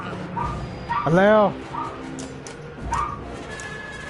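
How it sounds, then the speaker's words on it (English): A pet dog gives a loud yelping bark with a whining, whimpering tone, followed by a few quieter yips nearby, while a person speaks briefly over game sounds. "I apologize for my dog."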